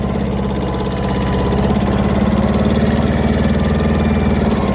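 Kubota mini tractor with a 9.5 horsepower engine running steadily, a close, loud, even diesel chug with a rhythmic vibration that holds constant and unbroken, no voices over it.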